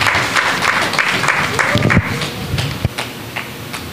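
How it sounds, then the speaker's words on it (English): An audience at a men's annual musical claps along, a busy patter of many hands with a few sharper individual claps standing out, fairly close, with faint voices mixed in. "Let's clap our hands together."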